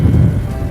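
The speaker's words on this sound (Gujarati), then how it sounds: "અત્યારે જો થોડા છાંટા તો ચાલુ થઈ ગયા છે અને પવન બહુ છે" Strong wind buffets the microphone as the first raindrops begin to fall over farm fields beside a water-filled farm pond, a loud, steady low roar throughout.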